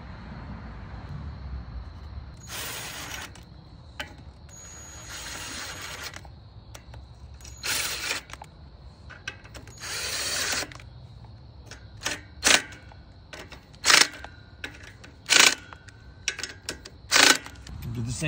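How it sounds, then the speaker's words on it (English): Valve cover bolts on a Briggs engine of a Husqvarna zero-turn mower are driven home with a tool, in a series of short, sharp, raspy bursts that grow more frequent toward the end over quiet background hum. "We'll put our valve cover back on, start the bolts by hand, and then we can drive them home."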